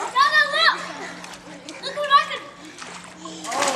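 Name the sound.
splash of a cannonball jump into water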